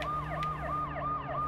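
An ambulance siren wails in the Watch Dogs video game, rising and falling in a steady cycle over low traffic rumble, with no voices.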